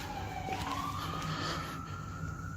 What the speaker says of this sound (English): is that sirens in the video or is that in real life?